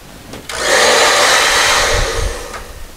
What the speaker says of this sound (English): I'm going to take my blow dryer.